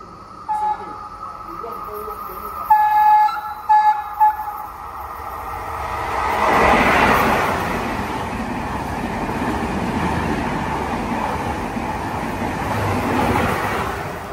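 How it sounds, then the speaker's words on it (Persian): A train rumbles past near a station in Arenzano, Italy, its broad roar swelling and holding steady after a few brief voice-like sounds at the start. "این خونه هایی که نزدیک ایستگاه قطارن قطعا سرصدای زیادی از قطارها دریافت میکنه"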